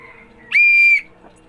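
A tour guide in Liloan, Cebu blows a whistle: a single loud, clear, steady blast lasting about half a second, close by and on its own.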